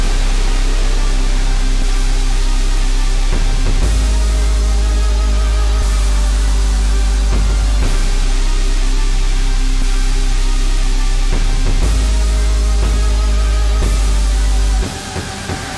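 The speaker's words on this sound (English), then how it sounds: "I threw in a bunch of cinematic sound effects, including some impacts, risers, and whooshes" Loud, dense beat bridge in the style of Quadeca, thick with cinematic sound effects: booming timpani and crash hits, big impacts, rising swells and whooshes over a heavy low end, with the mix pulsing through section changes before cutting off near the end.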